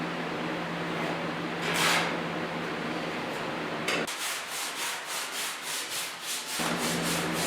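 Coarse 40-grit sandpaper scrapes across body filler putty on the hood of a 1956 Mercury pickup. Steady rubbing first, then a run of quick, rhythmic back-and-forth strokes, close and fairly loud, with no talking.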